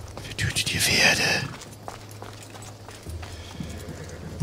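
Horse hooves clip-clop in the video game Assassin's Creed Odyssey, a brisk run of hoofbeats early on that fades, with a faint neigh and someone talking over it.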